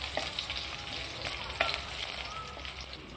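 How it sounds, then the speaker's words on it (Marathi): Fresh grated coconut, garlic cloves and ginger frying in oil in a pan for an egg curry, giving a steady close sizzle with a few faint stirring scrapes and no talking. "आता थोडंसं तेल टाकू आणि आपण पहिलं ओलं खोबरं ते भाजून घेऊ"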